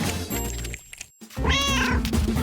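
A cat meowing in a Barbie animated pet-shelter cartoon, loud and close, one drawn-out meow, a brief gap and a thud, then a second, rising meow.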